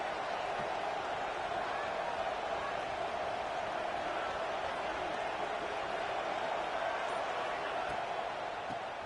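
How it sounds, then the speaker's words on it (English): Stadium crowd roar in the college football video game NCAA 26, a steady, dense wall of noise holding at an even level throughout with no breaks. "listen to this crowd noise. This stadium is vibrating."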